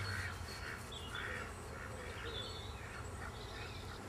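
Ducks quack intermittently beside a lake at a carp fishing spot, soft and somewhat distant calls recurring in short bursts over steady outdoor background noise.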